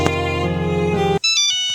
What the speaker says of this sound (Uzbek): Telefon bo'lyapti.